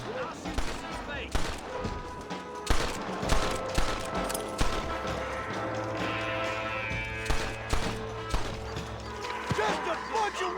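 Gunfire in the Red Dead Redemption video game, a string of sharp shots popping irregularly over a busy mix of game sound and music, fairly close and loud.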